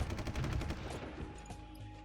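Rapid gunfire bursts from a strategy war game set in a Vietnam conflict, dense crackling volleys loud at first, then thinning into a lower rumble with scattered distant shots.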